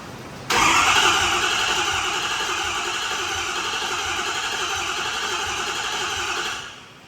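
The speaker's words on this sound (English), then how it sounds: "You can let it crank longer than that." A 6.7L Power Stroke diesel engine in a 2011 Ford F350 cranks for about six seconds, the starter whirring steadily and close before it cuts off without the engine catching.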